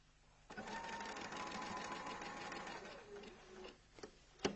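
Sewing machine stitching darts, running in a steady continuous whir for about two seconds before slowing and stopping, followed by a few small clicks and knocks from the machine.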